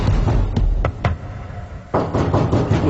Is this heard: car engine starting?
no